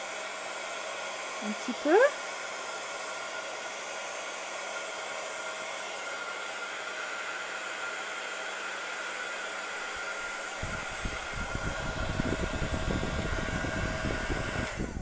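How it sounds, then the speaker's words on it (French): A heat gun blows a steady, loud whooshing hum while drying glue on a handmade paper mini album, running continuously for about fifteen seconds, with a brief spoken remark near the start and a shift in airflow tone toward the end. "Si jamais vous avez un pistolet chauffant, bah, vous pouvez y aller pour pouvoir faire sécher"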